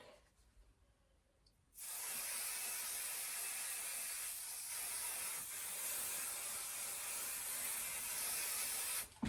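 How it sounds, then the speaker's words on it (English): Steady broadband hiss of a spray bottle misting quilt fabric continuously for several seconds, close and fairly loud, after a brief quiet start. "just spray this bottom fabric"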